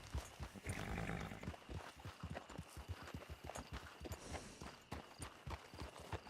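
A horse's hooves beat in a quick, regular trot in the video game Red Dead Redemption 2, close and fairly loud over outdoor game ambience, with a brief rumble near the start.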